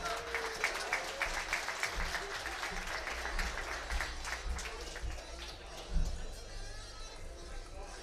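A crowd claps and cheers for two fighters at an SCFC 17 MMA weigh-in, a sustained wash of applause with voices mixed through it.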